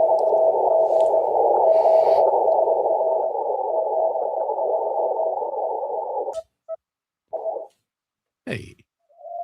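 Ham radio sending Morse code CW during a park activation: a steady sidetone beep held for several seconds, then a few short keyed tones separated by silences, clear and close.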